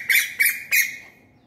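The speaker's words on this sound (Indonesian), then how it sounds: "dengan suara tu burung tu berlaku perebutan" Three sharp, harsh bird calls come in quick succession from birds fighting over territory, each a raspy burst, the last trailing off into a fading echo.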